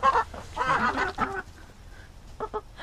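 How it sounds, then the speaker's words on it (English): Freshly fed backyard chickens cluck and squawk in short bursts up close, a busy run of calls, then a pause and a few more clucks at the end. "we got the chickens all fed"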